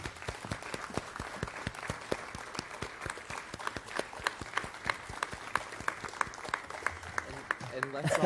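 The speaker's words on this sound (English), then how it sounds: "So let's give them a round of applause." A small audience at a university Native American symposium claps in a sparse, distinct rhythm of individual hand claps, fairly faint, with a voice starting to speak at the end.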